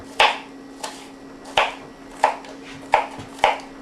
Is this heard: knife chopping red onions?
yes